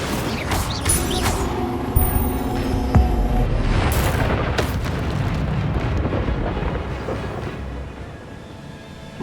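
An Incendio fire spell cast in Hogwarts Legacy: a dense, roaring burst of flame and rumble that swells loudly and keeps churning for several seconds with scattered sharp crackles, no talk over it.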